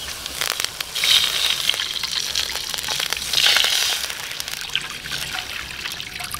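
Water poured into a cooking pot for bola bola soup, a continuous splashing trickle that swells twice and then settles into a steady pour.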